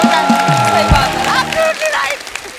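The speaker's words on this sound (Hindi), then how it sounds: "एक बार जोर से तालियां हो जाए" Studio audience applause on a televised comedy talk show set, a brief burst of clapping mixed with spoken voices and music tones over it.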